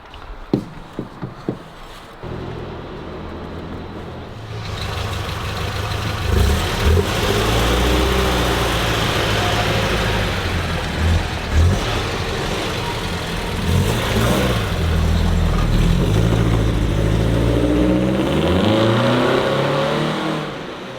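A Hillman Hunter GLS engine with a Weber DCOE carburetor revs hard and holds at high RPM, steady and loud, after a few short bursts at the start; no one speaks.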